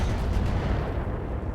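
A battle mech opens fire on a Hetzer tank destroyer in the RogueTech game, producing loud, sustained booming weapon fire with dense, rumbling low-end blasts throughout, with no voices.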